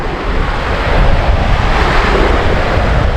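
Strong wind blowing on a breezy, cool lakeshore at Lake of the Woods, a loud continuous roar buffeting the microphone with a wash of surf beneath.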